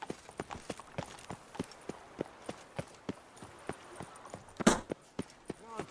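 A horse in The Witcher 3 game walks along with a steady clip-clop of hooves, each hoof clear and evenly spaced throughout, with a brief louder burst near the end.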